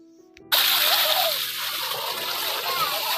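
Water gushes loudly from a partly opened tube well pipe at a roadside shrine in Pakistan, a steady broadband rush that bursts in suddenly after a moment of quiet and continues strongly throughout.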